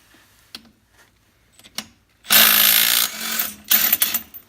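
Impact wrench breaking loose the primary clutch bolt on a 2018 Polaris 900 XP, a loud sustained rattling burst after a few faint clicks, then shorter pulsing bursts, close by.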